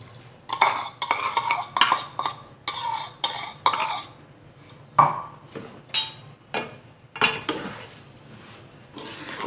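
Roasted semolina and sugar are stirred for halwa in a metal pan, a spoon scraping and clinking in repeated irregular strokes, close and fairly quiet, with brief pauses between bursts.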